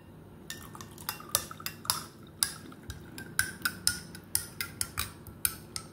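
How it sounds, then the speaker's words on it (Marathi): A metal spoon stirs milk into sweet potato kheer, with repeated clinking taps against a steel vessel in an irregular rhythm, close and moderately quiet, no voices. "आता या खिरीमध्ये आपण दूध मिक्स करणार आहोत."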